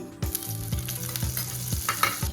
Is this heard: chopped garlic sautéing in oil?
yes